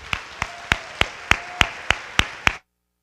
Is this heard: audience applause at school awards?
yes